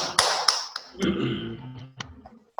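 Applause from a small group at a primary school assembly for a teacher, a few sharp claps at first and then a brief, scattered burst that trails off into separate claps.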